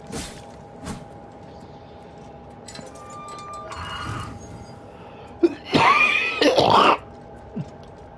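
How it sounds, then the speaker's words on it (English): A person coughs in a short, harsh burst of two or three coughs, loud and close, followed by a brief throat sound, over quiet room tone with a steady faint hum and no talk. "Oh, my coughing is definitely up today."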